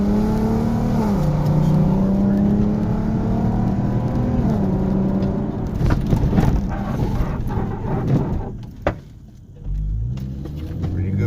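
An Audi TT 3.2 Quattro with a big brake upgrade accelerating hard to gather speed, its engine note climbing through the revs from inside the cabin, then easing off as road rumble and a quick clunk follow.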